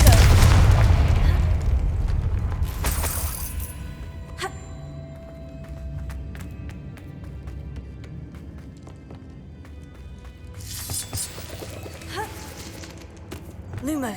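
Confringo spell blast in Hogwarts Legacy, a loud explosive boom at the start that decays into rumbling debris and scattered game effects, with further bursts later.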